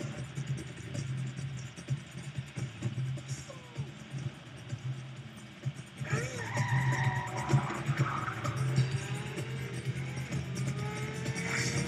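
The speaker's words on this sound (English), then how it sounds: "This is a test that most people use to test the brakes of a car." A car braking hard in a brake test, engine running before tires skid and squeal loudly partway through, the screech sliding and fading over several seconds.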